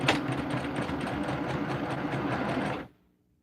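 A sewing machine runs in one steady close burst of rapid stitching along a quilt border, then stops abruptly and leaves near silence.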